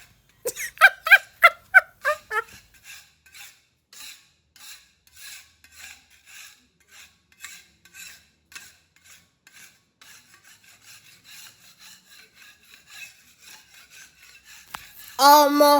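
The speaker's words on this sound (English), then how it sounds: "This scraping never see finish." Old ceiling boards are scraped by hand in a series of rasping strokes, loud and quick at first, then a long run of fainter, evenly spaced scrapes, ending in a short burst of voice.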